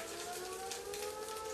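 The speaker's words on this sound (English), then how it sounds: "Sounds like an air raid. That's our fire alarm in Wallacetown." Town fire alarm siren in Wallacetown near Invercargill, wailing like an air raid siren as a steady sustained tone, fairly faint and distant under broad rain-like hiss.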